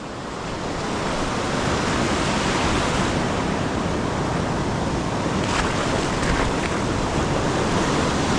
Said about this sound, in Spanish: Guarda la ola que está fuertísima acá.